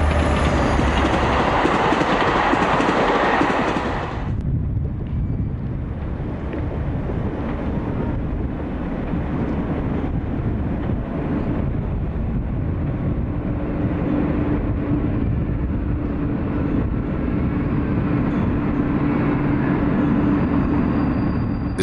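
A freight train hauling Hautes-Alpes mineral water and a string of empty wagons rumbles past on the Alps line. A loud, roaring passage fades after a few seconds into a steady low rolling drone. No one speaks.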